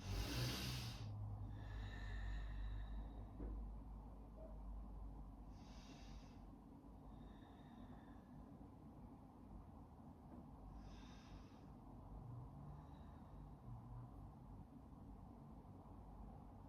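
Slow, airy breaths during a hips-and-glutes Pilates session: a few soft, breathy inhales and exhales spaced several seconds apart, faint and close over a low steady hum.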